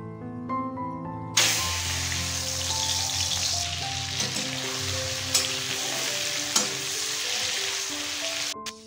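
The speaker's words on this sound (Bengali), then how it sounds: "তারপর চিংড়ি মাছগুলো ভেজে একে একে" Prawns drop into hot oil in a wok and burst into a loud, continuous sizzle that carries on steadily over soft background music, with a few sharper crackles and pops.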